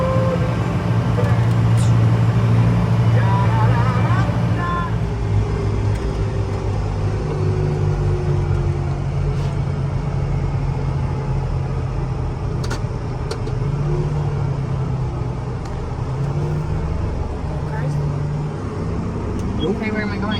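A John Deere 8245R tractor engine held under throttle while fitted with a Starfire 7000 GPS receiver, a steady low diesel rumble that drones close and constant throughout with slight shifts in pitch.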